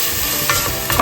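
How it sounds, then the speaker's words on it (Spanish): Ingredients for Moroccan harira sizzle steadily in a pan, a constant close frying hiss with soft stirring scrapes over about a second. "sofreímos poco a poco."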